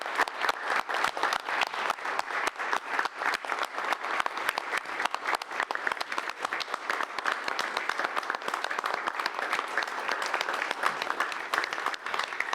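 Steady audience applause at a Grants Pass city council meeting, a sustained wash of many hands clapping in a hall for Arden and family, holding even and fairly loud throughout with no talk over it.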